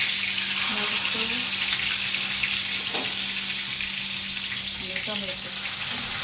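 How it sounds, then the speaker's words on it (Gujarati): Mustard seeds, cumin, curry leaves, chilli and tomato sizzle in hot oil as a tempering for mung bean curry, a loud, continuous frying hiss with a steady hum beneath, while people talk briefly over it. "વઘાર થઈ રહ્યો છે મગમાં"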